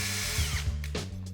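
Power drill clearing paint from the bolt holes of a plastic shredder box, a close, loud whirring whine that shifts pitch as the bit bites and then spins down near the end.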